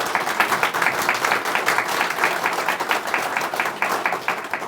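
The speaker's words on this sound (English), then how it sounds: "Let's give them a round of applause." An audience claps steadily through the whole stretch at an aviation open house in Raton, New Mexico, the applause dense and sustained at an even loudness, with no voices standing out.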